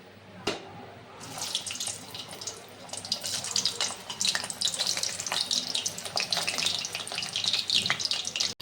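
Chicken pakoras dropped back into hot oil for a second fry, a sharp splash followed by a dense, rising crackle of bubbling oil that stays loud and steady.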